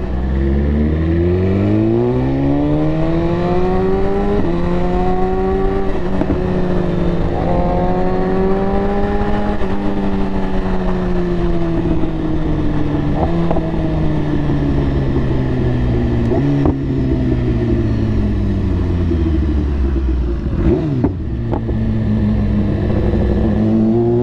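A motorcycle pulls away hard on a bank holiday ride out, engine revving loud and close through repeated rising gear pulls with brief dips at each shift, continuous for over twenty seconds without talk.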